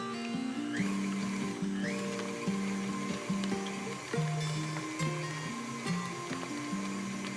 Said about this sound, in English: put it back on, and you're going to mix it for another minute